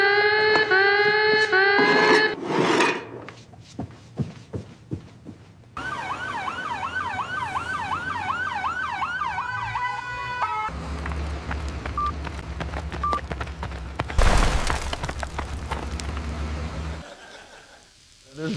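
A mobile phone ringtone that mimics an emergency siren sounds during a Talmud class, with a rising and falling electronic wail mixed with beeping tones, fairly loud and close, and brief stretches of quieter room sound.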